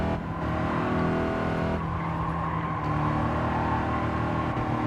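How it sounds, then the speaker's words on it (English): Race cars in the video game Gran Turismo 7 in online multiplayer: loud, steady engine roar with shifting revs, plus tire squeal and scraping as cars make contact and jostle for position, with no talking. "That car's going to dive underneath us, actually make some contact with us, push us wide"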